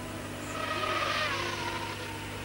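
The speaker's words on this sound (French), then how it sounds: "Gilles Villeneuve qui vient de passer" A Formula 1 car at the 1979 South African Grand Prix at Kyalami passes at a distance, its engine note swelling and then fading over a steady crowd and broadcast background.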